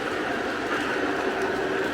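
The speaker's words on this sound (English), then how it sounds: "Playing with these trains." Lionel O gauge model train runs on a temporary winter layout, a steady rolling rumble and rattle of wheels on track, continuous and close.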